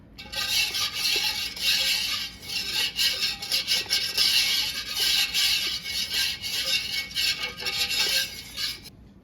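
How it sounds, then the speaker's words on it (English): A spoon scrapes and rubs steadily around a pot of hot dandelion jelly with the heat off, a close, rhythmic rasping that swells and eases in repeated strokes for several seconds. "So I'm just going to give it another stir here."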